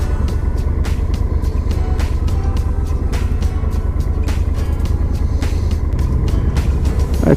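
Heard from a motorcycle on a Mexican highway, a truck passes amid steady loud engine and wind roar, with a brief rising whoosh as it goes by and no talk.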